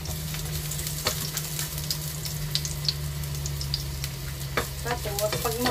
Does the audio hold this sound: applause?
no